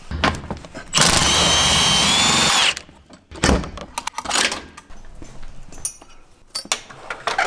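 A power tool used to remove the shock absorber bolts on a Jeep JL Wrangler during a lift kit install gives one loud whirring burst of almost two seconds, followed by metallic clunks and handling noises.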